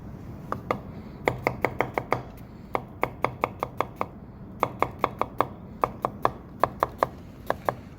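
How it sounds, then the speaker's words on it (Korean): A knife scores crosshatch cuts into Spanish mackerel on a cutting board, giving quick sharp taps in irregular rapid runs, close and distinct over a low room hum. "그러면 이게 격자식으로 칼집이 들어가는 거거든요."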